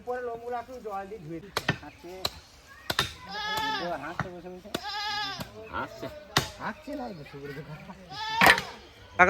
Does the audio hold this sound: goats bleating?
yes